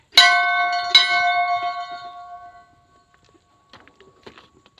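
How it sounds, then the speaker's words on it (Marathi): A metal temple bell at a hill fort temple is struck twice in quick succession, ringing out and slowly fading, followed by faint shuffling sounds. "इथं घंटा वाजून देवाचं दर्शन घेऊ"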